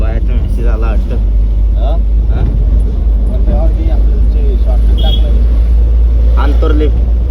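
A car drives along a road with a loud, steady low engine and road rumble throughout, while people talk inside the vehicle.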